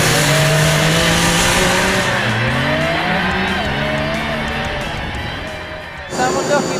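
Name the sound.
high-revving engine of a performance vehicle on track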